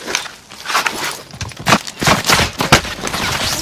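Rapid gunfire in a Call of Duty Warzone match in Verdansk, with sharp, clustered shots bursting close by and trading back and forth over a few seconds.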